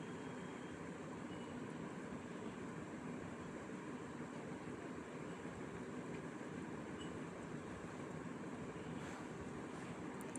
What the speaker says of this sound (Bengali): গ্যাসের এটা আমি কিন্তু লো দিয়েছি, লোতে করে এগুলোকে ভাজতে হবে।